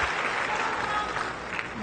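Tennis crowd at a Naomi Osaka versus Anastasia Pavlyuchenkova match applauding after an ace, a dense, steady wash of clapping throughout at moderate loudness with no talk over it.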